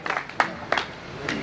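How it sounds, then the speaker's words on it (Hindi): An audience claps at a Hindi poetry gathering, with short bursts of applause coming in a few uneven waves over a second and a half. "आपकी जोरदार तालियां आमंत्रित करें"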